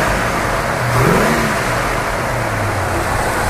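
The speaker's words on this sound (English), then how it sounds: "Let's go ahead and rev it up just a little bit." A 1966 Ford Mustang GT engine is revved once, its note rising and falling, then settling back into a loud, steady idle rumble; close up and nobody speaking.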